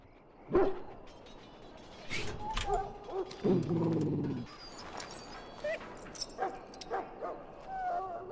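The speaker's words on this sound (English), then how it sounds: "Now I can treat the dog properly, poor fella." An ill dog in the video game Dragon Age Origins makes a series of whimpers, yips and low growling barks spread over several seconds, fairly close, among game sounds with no one talking.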